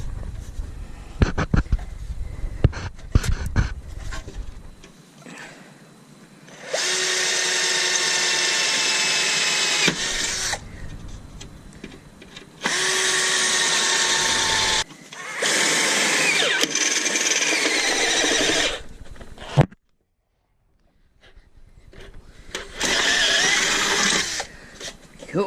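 Power drill boring into the frame of a Yamaha Virago XV250 motorcycle while fitting a 1960s sissy bar, several sustained high whining bursts separated by pauses, preceded by clicks and taps of handling parts.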